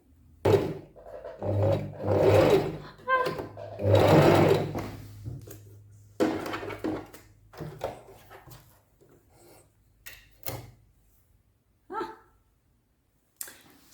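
A sewing machine top-stitches a fabric cone bra cup in several close, humming bursts of varying length. Pauses and small handling noises fall between the runs.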